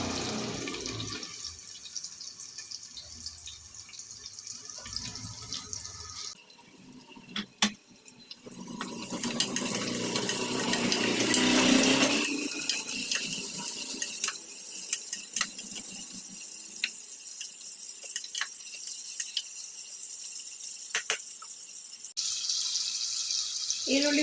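Chopped onions drop into hot oil with spices in a pan while cooking a green vegetable pulao, giving a steady, loud sizzling hiss that swells and continues for a long stretch.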